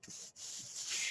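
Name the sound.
burnishing paper down on a card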